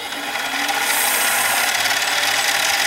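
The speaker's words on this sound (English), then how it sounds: "Let's try medium Scotch-Brite first" Medium Scotch-Brite pressed against a titanium ring blank spinning on a mini lathe, a steady loud abrasive hiss over the motor's hum, continuous and close, with no talk.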